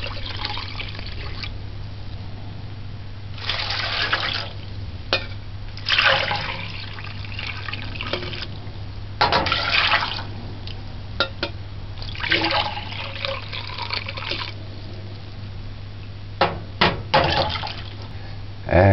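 Water pours and splashes into a pot on a stove in uneven bursts over a steady low hum, with occasional clinks.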